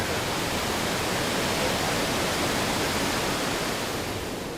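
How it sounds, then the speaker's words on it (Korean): Davi Falls in Nepal roars as a steady, close, dense rush of falling water, broadband and unbroken with no voices over it. "대비 폭포입니다."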